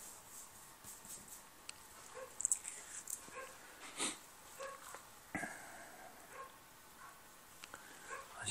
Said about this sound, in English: They're barking outside.